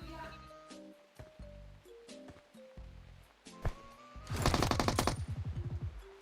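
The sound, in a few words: gunfire in PUBG Mobile video game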